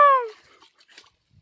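A dog arriving at an outdoor Sunday chicken kurma meal gives a single short, high whining yelp close by, followed by near silence.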